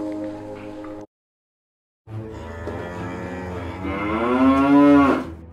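A cow that has just calved lets out long, loud, close moos, one brief call, a pause, then a sustained rising bellow in a veterinary farm setting.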